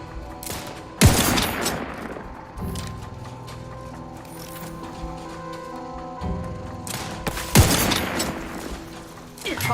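Gunfire in The Outer Worlds 2, two loud, close bursts of shots, one early and one late, with quieter shooting and a sustained tonal hum between them.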